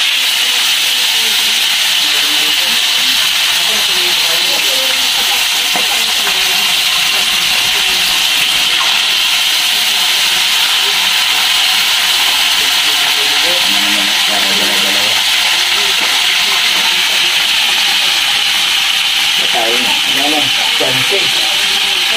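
Cooking oil hissing and sizzling steadily in a hot pan while food fries at home, a broad continuous crackle throughout with faint speech-like voices and clatter underneath.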